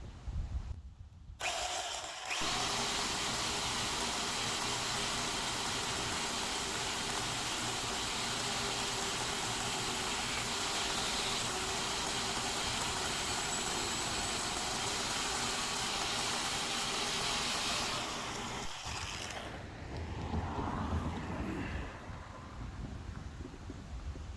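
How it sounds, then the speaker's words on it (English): A Portland 14-inch electric chainsaw buzzes steadily for about sixteen seconds, loud and close, with gritty cutting noise as it cuts through roots at a sidewalk edge, then stops abruptly, leaving faint rustling. "I also have this Portland 14-inch electric chainsaw"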